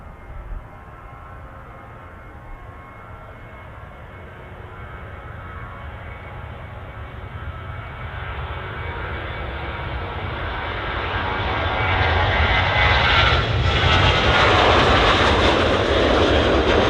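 A KLM airliner at Manchester Airport roars past, its engine noise a broad rumble that builds steadily from moderate to loud and near over the clip, with no talk.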